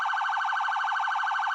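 An early-2000s Crown Victoria Police Interceptor siren runs in phaser mode, a very fast warbling electronic pulse, steady and loud, heard up close without any voices.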